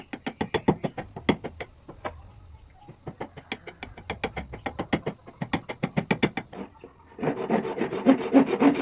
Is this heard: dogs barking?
no